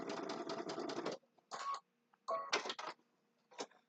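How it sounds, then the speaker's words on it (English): Sewing machine running a short locking stitch on a Christmas table runner, with a rapid burst of needle strokes followed by a few brief stop-start stitches separated by silence, close and quiet. "I'm going to do a little locking stitch."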